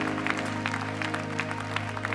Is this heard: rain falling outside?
no